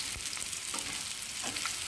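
Bitter gourd slices frying in oil in a pan in a home kitchen, a continuous close hiss and crackle with faint bumps of the slices being turned, no voices.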